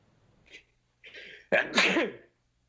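A person lets out a sneeze: a couple of faint breathy intakes build up, then a sharp, loud burst tails off quickly into silence, close to the microphone.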